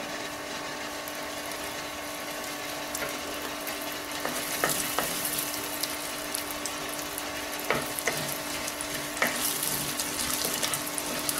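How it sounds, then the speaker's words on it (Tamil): Hot oil sizzles and crackles softly, with scattered sharp pops of mustard seeds and lentils spattering in a pan as they temper, growing busier toward the end. "கடுகு, உளுந்தம்பருப்பு தாளிக்க"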